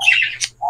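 A cockatiel calls twice at close range in an indoor breeding colony, one bright squawking call followed by a short sharp chirp and a shorter tonal note, with a low steady hum underneath.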